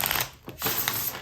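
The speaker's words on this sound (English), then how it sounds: "Let's shuffle your tarot now. Now for this, we are gonna give a good shuffle." A tarot deck is shuffled in one soft, brief burst of riffling card noise, close by, with a short pause midway.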